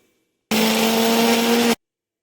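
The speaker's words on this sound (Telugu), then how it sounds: "మనం పచ్చిమిరపకాయలు, కరివేపాకు, జీలకర్ర, అల్లాన్ని పేస్ట్ చేసుకోవాలి. మెత్తగా గ్రైండ్ చేసుకోవాలి మొత్తాన్ని." A kitchen mixer grinder grinds green chillies, curry leaves, cumin and ginger into a paste, one loud, steady whirring burst of just over a second that starts and stops abruptly, with no talking.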